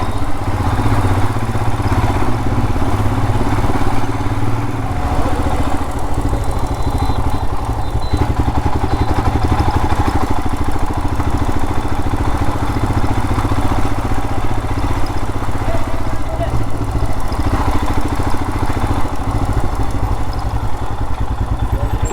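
A motorcycle engine idles steadily and loud throughout, a continuous low throbbing rumble with light clatter as the bike is brought in to park near the Nathdwara temple, with no talk.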